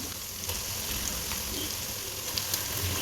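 Washed meat pieces hit hot oil with ginger, garlic and curry leaves for Kayalpattinam-style kalari curry, giving a steady, close, even sizzle and frying hiss with a few faint stirring clicks and no talk.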